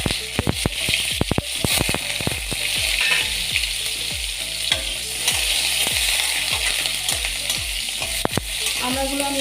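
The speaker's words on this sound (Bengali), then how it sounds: "আমড়াগুলো আমি একটু ভালো করে ফ্রাই করে নেব।" Hog plum pieces frying with black mustard seeds in a pan, a steady loud sizzle broken by a long run of sharp, regular stirring taps and scrapes, with no one talking.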